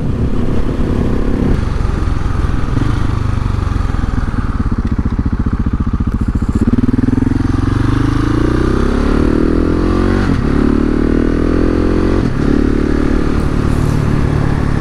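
A KTM 690 SMC-R single-cylinder motorcycle climbs a mountain road, its engine droning loud and close with rising revs and gear changes, plus wind rush throughout.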